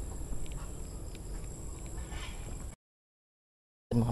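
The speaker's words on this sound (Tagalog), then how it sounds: "Ayan, yung mga ibon dun" Faint duck quacks and bird calls drift in from a distance on a shore during fishing, quiet against soft background noise, then cut to silence before a brief return.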